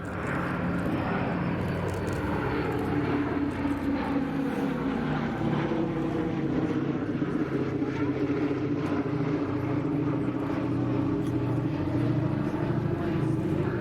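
A Boeing B-17 bomber, Sally B, flies a solo display at the Duxford airshow, its piston engines giving a loud, continuous propeller drone that holds steady throughout.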